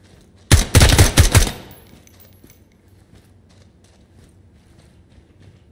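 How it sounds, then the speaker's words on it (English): Gunfire in the video game Ground Branch: a single close, loud burst of rapid shots lasting about a second, then quiet room tone with faint soft shuffles. "They're shooting at me!"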